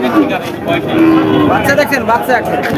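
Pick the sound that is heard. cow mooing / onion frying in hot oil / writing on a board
cow mooing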